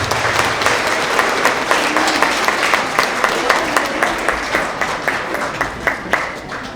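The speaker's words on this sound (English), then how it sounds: "So another round of applause." Loud, sustained applause from a crowd at a 3rd to 5th grade school award assembly, with dense, continuous clapping and sharper individual claps standing out near the end.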